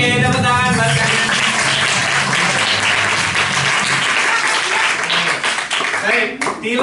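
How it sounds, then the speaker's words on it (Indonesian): Pupils in a classroom break into applause, a dense, steady wash of many hands clapping close by, mixed with children's voices, tapering off near the end. "tepuk tangan buat kalian"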